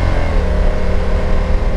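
A Honda NT1100 motorcycle accelerates hard, its engine note loud and close as it climbs steadily in pitch over a short burst, with no voices.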